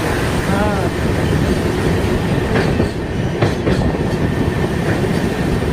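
A train crosses the Farakka bridge on the Malda Town to New Farakka Junction route, heard from inside a carriage: a loud, steady rumble with clickety-clack wheel beats throughout.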